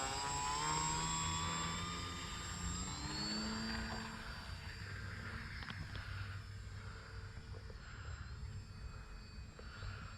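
A VMAR L-19 Bird Dog RC model airplane flies overhead, its small engine giving a steady, moderately distant drone with shifting pitch that holds throughout.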